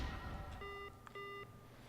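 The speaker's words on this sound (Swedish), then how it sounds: "Men fan vad det ringer." An alarm clock rings in the video game Dear Leader, giving two short electronic beeps in a row over a faint low background hum.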